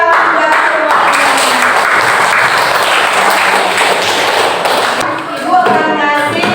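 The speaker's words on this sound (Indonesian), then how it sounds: "kita harus tepuk tangan buat semuanya" Classroom applause for an Indonesian lesson: dense, steady clapping from a group of students fills the room for several seconds, loud and close, easing briefly near the end before picking up again.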